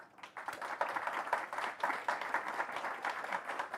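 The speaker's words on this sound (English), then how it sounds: "How about a round of applause for them?" Steady applause from an audience thanking panelists at a policy discussion on EU fertiliser regulation, dense clapping held at an even level throughout, moderately loud and slightly distant.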